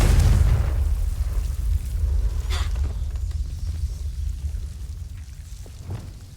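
A Confringo fire spell blasts in Hogwarts Legacy. A loud boom opens and rolls off into a crackling, rumbling tail that fades slowly, with a couple of faint pops later.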